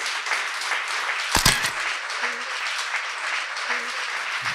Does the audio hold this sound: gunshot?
no